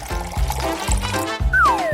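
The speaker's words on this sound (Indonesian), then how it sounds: "Tuangkan ke dalam mesin." A blended ice cream and mustard mixture is poured into a machine, giving a close, wet glugging pour with rhythmic splashes and a brief rising squeak near the end.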